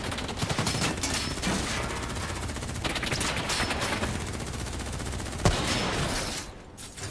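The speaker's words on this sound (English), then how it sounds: "Who's shooting?" Dense, continuous gunfire with rapid overlapping shots in the video game Call of Duty: Black Ops 3, loud and sustained with no voices, easing off briefly at the end.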